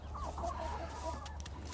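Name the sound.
chickens clucking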